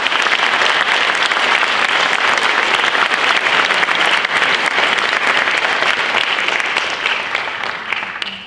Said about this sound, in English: join us in a round of applause in thankfulness and appreciation and congratulations for the newly minted Dr. Seth Rushton